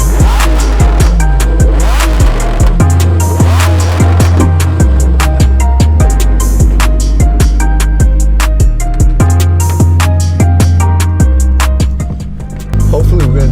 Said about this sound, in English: test drive the Performante for a little bit, see how it does on the freeway